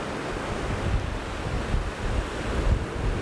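Ocean waves wash in and draw back out along a shoreline, a steady broadband rush with rising and falling swells and heavy wind buffeting the microphone throughout, with no voices.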